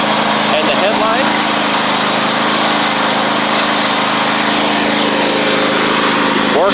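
A Husqvarna YTH24V48 riding mower with a Briggs V-twin engine runs steadily while being driven, a loud continuous engine drone with a faint rattle and no pauses.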